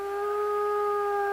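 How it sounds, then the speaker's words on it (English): A wild wolf howls in Voyageurs National Park, recorded by a trail camera: one long, steady, sustained tone with clear harmonics, close and loud, with no other sound. "a recent howl caught on camera was described as being as wild as they come"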